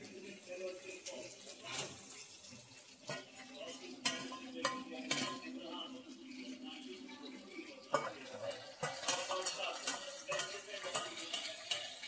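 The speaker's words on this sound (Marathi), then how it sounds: "आता हे आपला चिकन याच्यामध्ये ॲड करायचं आहे." Chicken pieces stirred into oily biryani masala in a pan, with scraping spoon clatter against the pot and a low sizzle running throughout at close range, with occasional background voices.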